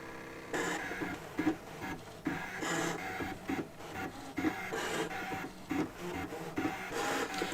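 A Brother ScanNCut 325 cutting machine slices fabric for appliqué, a steady mechanical whir with rhythmic motor surges and scratchy blade strokes, continuous and close throughout.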